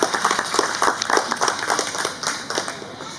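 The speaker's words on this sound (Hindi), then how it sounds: "आइए जोरदार तालियों से स्वागत करते हैं" An audience at a cultural ceremony in Singapore gives steady, enthusiastic applause to welcome guests, with many hands clapping together and no talk over it.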